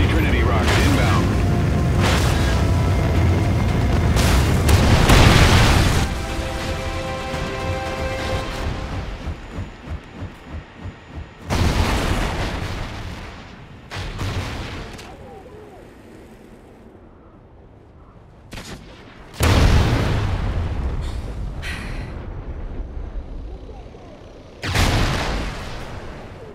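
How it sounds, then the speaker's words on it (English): Trinity rocket strikes in Call of Duty Ghosts, several heavy booming blasts spaced across the stretch, each a loud burst that decays into rumble, with game chatter and quieter gunfire between them. "Friendly Trinity rocket inbound."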